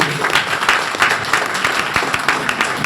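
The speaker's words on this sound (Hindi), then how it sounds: "सब लोग फिर से अगेन एक बार जोरदार तालियां सुन लो" An audience at a talk bursts into vigorous clapping, a dense, loud, steady roar of many hands close by with a faintly pulsing rhythm throughout.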